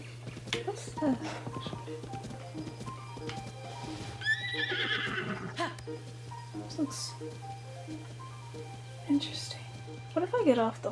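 A horse whinnies in The Legend of Zelda: Tears of the Kingdom, at Castle Town Ruins, over a steady low hum and scattered clip-clop sounds, with a voice speaking quietly at times.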